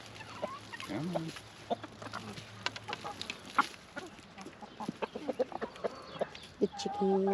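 Several backyard chickens cluck and peck in short irregular bursts while eating greens, close by and fairly soft, with a few louder calls.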